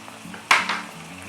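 Coriander and mint dropped into a pan of frying tomato rice, a sharp sizzling burst as the herbs hit the hot oil, then a softer stirring hiss fading out.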